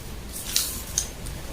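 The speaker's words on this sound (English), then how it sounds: "Then we use this to cut out the pattern, to cut out our fabric." Scissors snipping through fabric for a Victorian corset, two or three crisp close cuts spaced apart over a quiet background.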